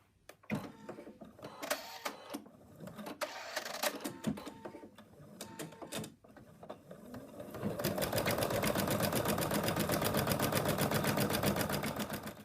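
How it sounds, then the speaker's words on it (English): A domestic embroidery machine stitches a leg outline on hooped fabric for a frog toy. The sound starts with irregular clattering and thumps, then settles into a steady, loud, rapid mechanical whirring with a fast needle rhythm. "I've put the hoop in the machine, and the first color is going to stitch the outline of the legs."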